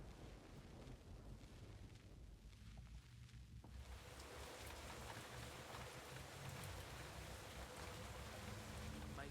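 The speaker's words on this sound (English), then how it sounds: "a terrible storm began to rage, washing away the sound of my footsteps" Rain and a storm in the Nancy Drew: Secret of the Old Clock video game make a faint, steady, wide hiss that thickens into a denser downpour partway through.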